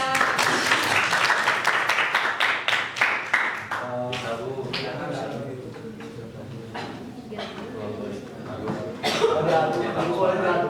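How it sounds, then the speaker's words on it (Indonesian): Classroom applause for a student, a burst of clapping from several people in the first few seconds that thins out into scattered claps, followed by people talking and a little laughter. "Silakan tepuk tangan buat Maesa."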